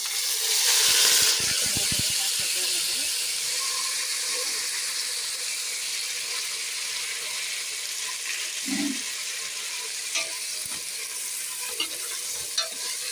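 Loud, steady hiss of spice tempering with curry leaves, onion and tomato sizzling in hot oil, close by, with faint scraping and a few soft clicks, no talking.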